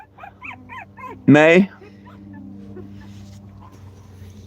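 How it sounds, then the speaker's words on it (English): Puppies give a single loud, close whimpering yelp lasting under half a second, with a person talking just before it and a low background hum throughout. "I was sitting here playing with the puppies."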